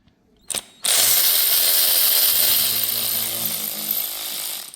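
A power tool removes gearbox bolts on a VW Transporter T5: a brief mechanical burst, then a sustained, loud whirring and rattling run that eases slightly toward the end.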